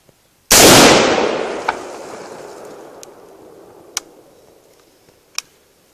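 A semi-automatic rifle fires a single loud, sharp shot that decays into a long echoing tail, followed by a few faint, sparse clicks and ticks as the weapon cycles.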